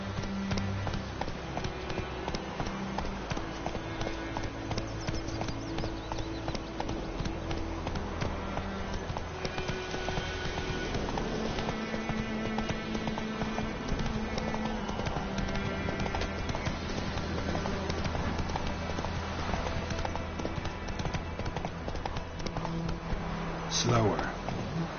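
Roach the horse galloping in Witcher 3, rhythmic hoofbeats drumming steadily throughout, mixed under game music and voices talking.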